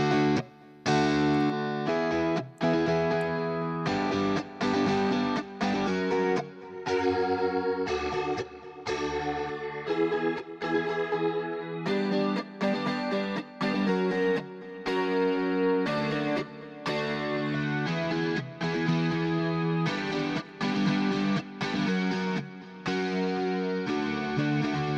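UJAM Virtual Guitarist Sparkle clean electric guitar playing rhythmic strummed chord patterns with chorus, reverb and delay effects, sustained and shimmering over about twenty-five seconds with short choppy breaks between strums, no talking.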